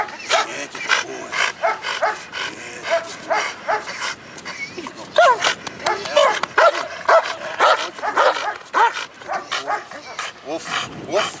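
A working police-style dog barks repeatedly in sharp, loud, close bursts with an irregular rhythm, mixed with excited yips and whimpers, while a handler talks over it.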